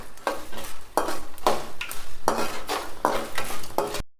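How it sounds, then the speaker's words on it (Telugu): A pan of ingredients fries with a steady sizzle while a utensil stirs it in regular scraping strokes about every half second, close and clear with no talking. "ఇగో దోరగా ఇట్లా వేయించుకోవాలి."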